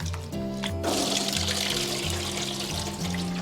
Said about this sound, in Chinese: 我们直接倒入清水，把这个蒜末给它清洗一下